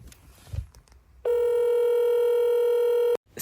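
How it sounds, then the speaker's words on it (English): A phone call placed hands-free through a car's smart screen with dash camera, heard as a steady electronic ringback tone that holds loud and unbroken for about two seconds before cutting off, following a brief quiet rustle. "You can make phone calls from this."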